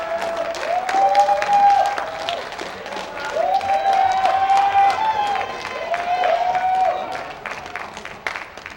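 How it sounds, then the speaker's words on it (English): Big round of applause from an event crowd welcoming a student association board onstage, steady clapping throughout with a loud amplified voice speaking over it. "I want the biggest round of applause we can make"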